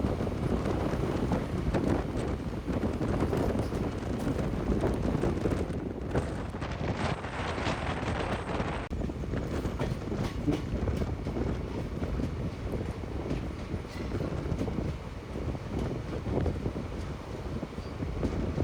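Lalgola Ranaghat MEMU train passing in the rain, a dense continuous rushing roar of wheels and wind, loud and close, shifting in texture midway without any break.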